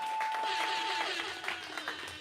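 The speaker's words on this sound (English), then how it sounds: "Give them a round of applause for 18 years." A live audience at a spoken-word event claps briefly, a short burst of applause with a few scattered louder claps as it tapers off.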